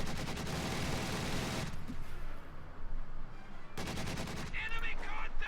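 Machine gun fire in the strategy game Company of Heroes 2, with rapid bursts of rattling shots that start, cut out, then resume, together with further battle sounds and brief in-game voice snippets.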